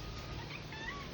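Orange, a household cat, meows faintly in a few thin, drawn-out cries over a low, steady background hum, with no one talking.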